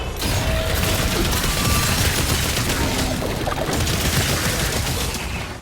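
The Cycler weapon firing in DOOM: The Dark Ages, a dense, continuous rapid mechanical rattle of shots with metallic clanking, loud and sustained throughout.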